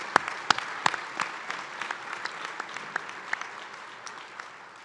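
An audience at a fundraiser breakfast claps in a moderate, fairly distant round of applause, with sharp individual claps standing out early before thinning.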